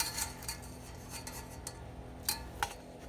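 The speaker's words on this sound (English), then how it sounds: "So we are going to flip them." Sausage balls being turned over in a hot pan, with soft metallic scrapes and a couple of sharper clinks of utensil against pan over a low background, no talking.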